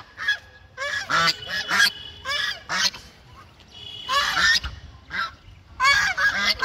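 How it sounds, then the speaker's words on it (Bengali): Geese honk loudly and repeatedly in overlapping bursts, close by, at a feeding spot in the Nabadwip and Mayapur pilgrimage area, with short quieter pauses between the flurries of calls. "রাজহাঁস।"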